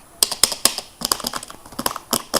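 Fast, uneven typing on the keyboard of a 1992 laptop computer, with crisp, close key clacks coming in quick bursts and no voices.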